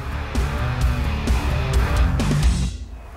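A loud Ferrari sports car roars past at speed, its engine note rising and falling with hard gear changes and brief tire squeal before fading as it moves away.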